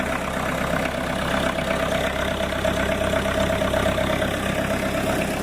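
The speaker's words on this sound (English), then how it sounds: "So we're going to turn the key on. There you go. This is a 4-cylinder Kubota." A 4-cylinder Kubota diesel idles on a cold 30-degree morning, a steady, even chugging rumble that holds unchanged from start to finish with no voices over it.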